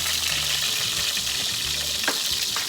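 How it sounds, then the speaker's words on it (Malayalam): Coconut oil heating in a clay pot sputters and crackles where drops of water hit it, a dense, steady sizzle with a few sharper pops standing out. "വെളിച്ചെണ്ണ അതിൽ കുറച്ച് വെള്ളം വീണു, അതാണ് പൊട്ടിത്തെറിക്കുന്നത്"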